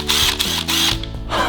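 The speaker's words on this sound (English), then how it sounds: "This is a cordless drill." A cordless drill whirs loudly up close in short runs, its motor pitch dipping and rising between bursts as the trigger is eased and squeezed.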